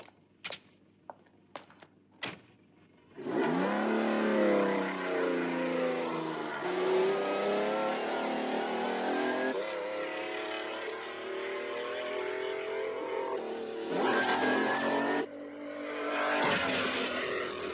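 A few sharp knocks, then a loud race car engine, starting to misfire, roaring and revving steadily for several seconds, dipping briefly before surging again, close by.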